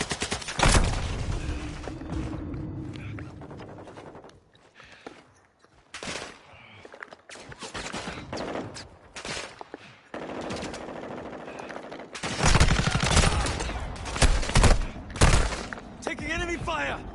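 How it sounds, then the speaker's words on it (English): Automatic and single gunfire in Call of Duty DMZ, with bursts of rapid shots in a tense firefight around a building, loud and repeated through the clip, alongside game voice callouts and brief quieter gaps. "Taking enemy fire!"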